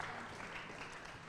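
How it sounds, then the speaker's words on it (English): A crowd claps at a ribbon cutting ceremony, steady dense applause sustained throughout at moderate volume with no voices on top. "Another round of applause for Mayor Mike Przicki, everyone."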